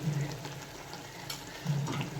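Spices such as turmeric and red chilli sautéing in hot oil for a Maharashtrian-style rajma curry, giving a steady close sizzle and fry with soft stirring scrapes and two louder bursts at the start and near the end.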